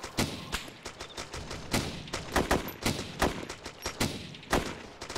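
Heavy machine gun fire in Arma 2, repeated bursts of sharp shots with uneven rhythm, close and loud throughout.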